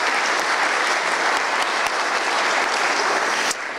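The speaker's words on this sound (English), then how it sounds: "Please give a round of applause for our volunteers." Dense, loud crowd applause from a large audience at the closing session of the BruCON security conference, a continuous roar of many hands throughout.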